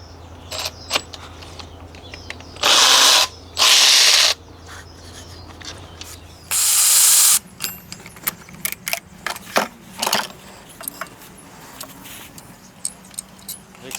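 Metallic ratcheting clicks and tool handling while two E10 thermostat bolts are removed from a 2008 Mercedes CL550 engine, close up, with a few loud bursts of rattling among scattered sharp taps.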